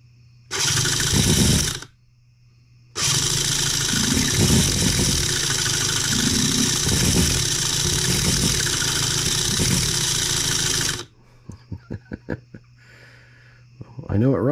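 A cold scale model Atkinson engine buzzes loudly and high-pitched in two runs on its first start, the first brief, the second sustained for several seconds, then cuts out, leaving quieter clicks and a brief voice.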